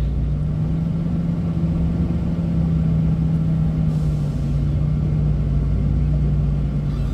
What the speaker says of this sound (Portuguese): Olha ali, tanto de carro.